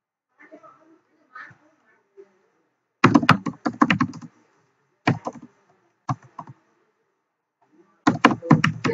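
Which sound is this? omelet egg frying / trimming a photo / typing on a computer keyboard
typing on a computer keyboard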